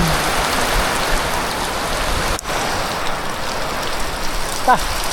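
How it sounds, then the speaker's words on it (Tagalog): Steady rain pours down on an island, a dense continuous hiss of drops hitting surfaces, close and even throughout with a brief dip midway and a faint voice near the end. "Pagkatapos kumain, ulan."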